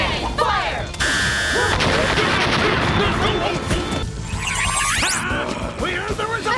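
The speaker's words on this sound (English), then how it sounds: "Turbo cannon, fire!" A Turbo cannon fires a blast in Power Rangers Turbo: loud, dense explosive crashes and booms layered with whooshing, zapping effects and music, continuing throughout alongside voices.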